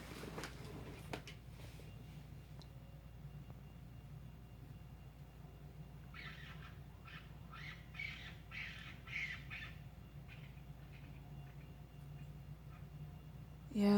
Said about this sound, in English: I'm not sure if those are two birds fighting.